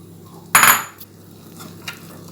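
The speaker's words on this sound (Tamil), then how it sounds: "வேக வச்ச கொண்டைக்கடலையே இப்போ சேர்த்துட்டோம். சேர்த்து விட்டு இப்படி கிண்டிடுங்க." Boiled chickpeas tipped into a metal pan for chickpea biryani give one loud clattering scrape of utensil on metal, followed by a few faint knocks against a quiet kitchen background.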